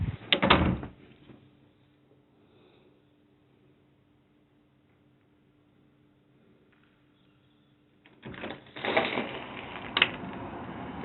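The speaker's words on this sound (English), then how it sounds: "I'm going to shut the door then" An interior house door is shut at home, giving a short loud knock near the start and another burst of handling noise toward the end, with quiet room tone in between.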